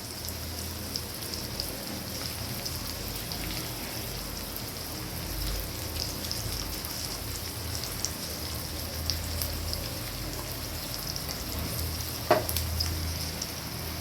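Onion, garlic and curry leaves sizzle and fry steadily in a pan for tamarind sambar, a constant close crackling hiss with no talk and a brief faint clink near the end.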